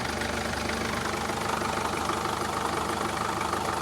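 A Mercedes Vito 638 with a 2.2 CDI diesel engine idles with a knocking fault: a steady, close, rough mechanical rumble with a continuous rattly clatter and no pauses.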